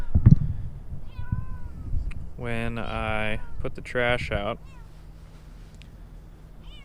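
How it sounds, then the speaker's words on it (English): A cat meows loudly nearby, two drawn-out, wavering cries in quick succession, with a person speaking briefly before them. "This cat is like freaking out."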